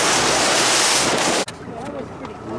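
Ocean waves on a deep sea fishing trip off Morro Bay: loud wind-blown rushing of surf and spray, cut off abruptly partway through, then a quieter wash of water with faint voices.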